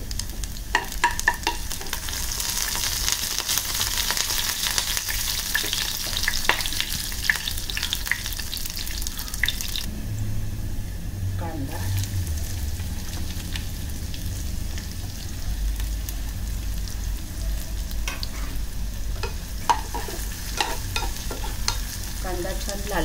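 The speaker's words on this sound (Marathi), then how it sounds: "कांदा छान परतून झालाय" Onion and garlic frying in a pan with cumin for a Malvani bitter gourd bhaji, a steady close sizzle with stirring scrapes throughout, alone without talk.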